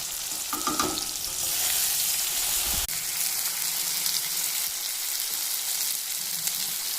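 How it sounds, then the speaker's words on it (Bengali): Onion, tomato and spices fry steadily in a pan, a loud close sizzle with brief stirring scrapes near the start. "পেঁয়াজ টমেটো ভালো করে ভাজা হয়ে গেছে, এবার মশলাগুলো দিয়ে দেবো"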